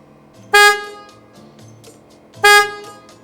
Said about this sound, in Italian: Ora uno dei suoni classici, quello del clacson, che molti contestano.